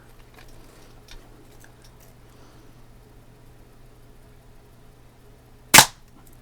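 A Daisy 853 scoped air rifle fires one sharp, close shot at a Christmas star target, after several seconds of near silence.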